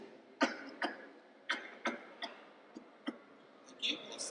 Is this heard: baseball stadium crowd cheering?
no